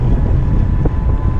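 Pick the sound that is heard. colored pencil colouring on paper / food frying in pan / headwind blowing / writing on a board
headwind blowing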